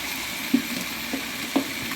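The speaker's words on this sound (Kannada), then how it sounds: "ಪುದೀನ ಕೊತ್ತಂಬರಿ ಸೊಪ್ಪು ಮತ್ತು ಹಸಿರು ರುಬ್ಬಿಟ್ಟಿರುವಂಥ ಪೇಸ್ಟನ್ನು ಹಾಕ್ತಾ ಇದ್ದೀವಿ" Mint, coriander and green paste going into a hot pan for Mandya-style chicken biryani produce a low steady sizzle, broken by two soft thuds as more of the paste drops in.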